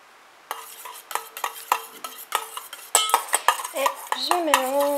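A utensil stirs aloe vera gel and water in a container for a homemade cherry blossom deodorant, with quick clinks and scrapes against the sides, close and fairly loud, and a few sharper knocks and a brief squeak near the end.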